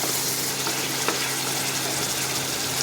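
Spices with turmeric powder fry and are stirred in a pan, a steady close sizzle with faint scraping, heard without talking.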